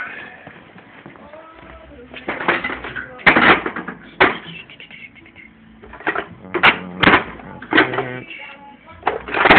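A 1/2 inch ratchet turns a socket during a drum brake shoe installation, giving bursts of sharp metallic clicking in short runs, with someone talking in between.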